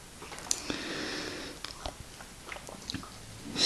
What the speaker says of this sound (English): he's still just happily chewing away on that caterpillar toy.